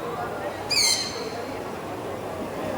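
A single short, high bird call cuts through steady background chatter and room noise in a coffee shop, then fades.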